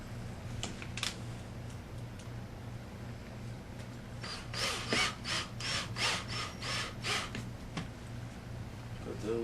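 A power drill drives screws during installation of a leather driver's bottom seat cover on a 1995–1999 Chevrolet, a run of short whirring bursts close by, with steady background hum and faint handling noise.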